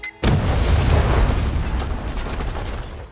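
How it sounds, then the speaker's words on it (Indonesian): A sudden bomb explosion in a film booms in after a brief quiet, then rolls on as a loud, sustained rumble that slowly fades. "Mereka kabur tepat saat ledakan terjadi."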